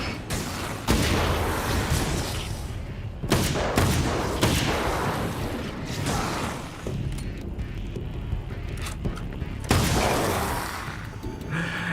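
Carbine rifle gunfire in a video game, several loud sharp blasts spaced a few seconds apart, each trailing into a noisy decay, with dense rumbling between them.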